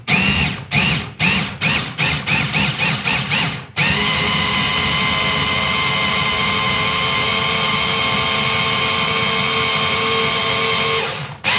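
A new, very powerful electric blender mixes a milkshake, first in a quick series of short loud pulses, then running in one sustained, high-pitched roar close by before stopping.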